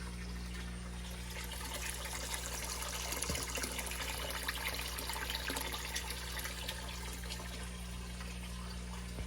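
Water runs steadily into a 150 gallon predator fish tank, a soft continuous trickle and splash over a low steady hum, with no talking.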